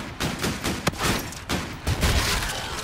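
Rapid gunfire in Call of Duty: Infinite Warfare during an Infected match: a fast, steady fusillade of sharp shots in quick bursts, fairly close and loud, with no talk.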